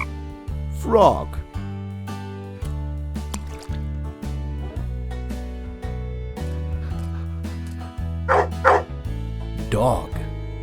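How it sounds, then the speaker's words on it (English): A dog gives a few sharp barks, one early and a pair near the end, each standing out clearly over continuous upbeat background music. "Dog."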